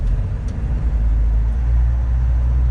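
Inside an old Chevy Nova at 55 to 60 mph, a steady, loud low roar of wind and road noise fills the cabin, rushing through a gap in the door, with no one speaking.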